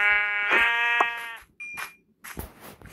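Several sheep bleat in Minecraft, three harmonic bleats one after another, loud and close, followed by softer game noises.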